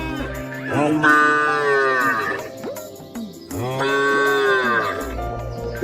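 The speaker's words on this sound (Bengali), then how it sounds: "গরু ডেকে ওঠে" A cow lows loudly and close by, giving two long, drawn-out moos separated by a brief pause, with no talking in between.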